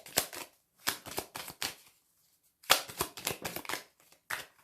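A deck of tarot cards is cut and handled up close, with quick papery snaps and riffles in two clusters separated by a short pause, crisp and fairly quiet with no voices.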